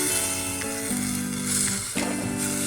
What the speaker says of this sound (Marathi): तूप टाकलेलं आहे 1 छोटा चमचा, त्याच्यावर हा परतून घ्यायचा काकडीचा किस